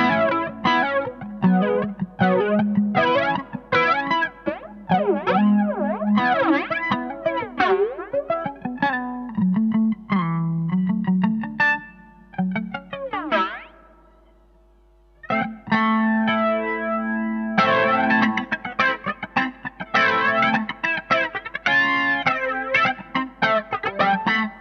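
Electric guitar through a PastFX Hot For Flanger pedal, its chords and riffs sweeping with a swirling, jet-like flange and distortion, loud and continuous, with a brief drop to near silence midway before the playing resumes.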